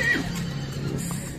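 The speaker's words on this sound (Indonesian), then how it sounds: "Kuda Sumba Daengku." A Sumba horse at a horse market gives a short, close whinny at the start. A steady low background murmur and faint market noise follow.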